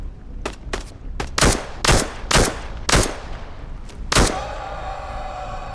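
Shotgun blasts ring out in the video game Into the Radius 2, about nine sharp, loud booms in irregular succession with short gaps between them. The last blast trails off into a ringing tail.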